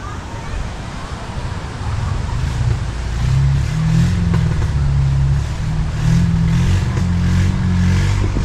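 A boat engine from San Diego revs up, a loud low rumbling drone that rises and thickens after a few seconds and then holds steady, with voices underneath.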